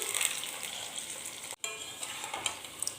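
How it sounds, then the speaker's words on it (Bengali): Coated baby corn deep-frying in hot oil for a second time gives a steady, close crackling sizzle that drops out briefly midway, then resumes with small pops. "আবারও আমি এগুলিকে তেলের মধ্যে দিয়ে দ্বিতীয়বার ফ্রাই করছি"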